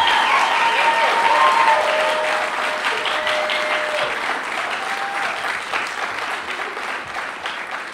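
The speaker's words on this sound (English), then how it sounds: "Give these kids one more big round of applause before we wrap it up." Sustained applause from a holiday concert audience for student performers of a college jazz ensemble and singing group, a dense steady clatter of many hands that fades slightly toward the end, with brief voices and tones underneath.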